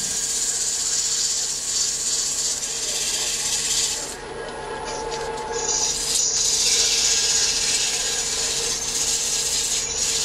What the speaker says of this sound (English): a little bit of sanding on the top edge around the beads again